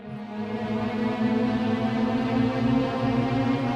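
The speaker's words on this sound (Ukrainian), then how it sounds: "Це ілюзія тону Шепарда." A Shepard tone illusion: a dense, steady cluster of layered tones hums continuously, seeming to glide upward endlessly without ever arriving anywhere, with no voices.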